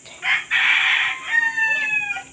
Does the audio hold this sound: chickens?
yes